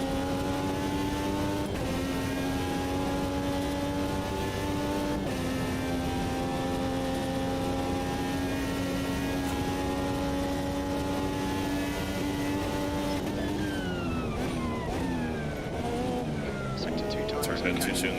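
A race car in a racing video game laps an oval circuit, its engine a loud sustained whine holding steady then dropping in pitch at gear changes and braking, with some tyre noise toward the end.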